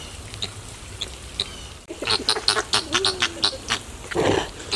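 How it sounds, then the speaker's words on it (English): Birds calling at a garden pond in the Sunken Gardens of St. Pete: a quiet outdoor hush gives way to a run of short, sharp calls repeated in quick bursts, fairly close, ending with a louder squawk. "Pretty birds."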